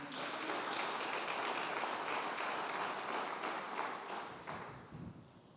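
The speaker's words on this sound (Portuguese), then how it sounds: "As palmas para o Senhor." A church congregation applauds steadily, a dense wash of clapping that holds strong for several seconds before tapering slightly at the end.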